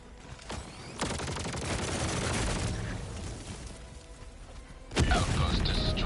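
Helldivers 2 combat: a grenade blast and bursts of gunfire, with a heavy boom near the start, a long stretch of rumbling fire and debris, and a second loud explosion toward the end.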